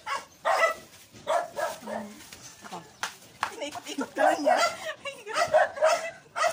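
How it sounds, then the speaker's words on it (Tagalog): A dog barks in short bursts and yips between people talking close by in a home setting, its barks mixed in with and partly under the voices. "Mainit talaga yung aso namin."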